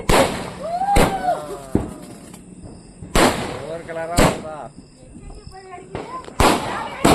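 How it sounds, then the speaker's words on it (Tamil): A long string of sixty firecrackers bursts for Diwali, sharp loud bangs going off irregularly across the whole stretch, with excited voices talking and calling over the blasts. "போடு போடு வெடியா போடு 60 வெடி"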